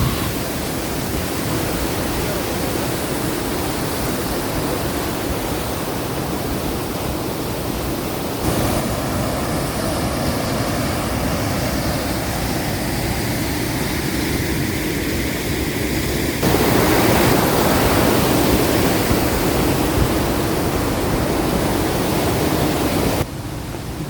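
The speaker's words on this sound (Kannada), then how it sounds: "ದೇವಕರ್ ಫಾಲ್ಸ್ ಆಗೈತಿ." Devakar waterfall on a trek, a small but heavy fall, roars as a loud, steady wash of falling water with no voices, the level shifting slightly in stages as if the position changes.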